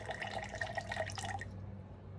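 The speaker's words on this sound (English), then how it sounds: "I'm going to add water to the glass vase." Water poured into a glass vase, a close liquid trickle with dripping splashes that fades out after about a second and a half, no voices.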